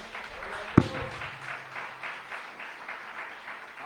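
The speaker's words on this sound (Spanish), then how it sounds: "Dele fuerte ese aplauso al Rey de Gloria" Congregation applauding during a Spanish-language sermon, a moderate, continuous spread of clapping over a few seconds, with one sharp close knock early on.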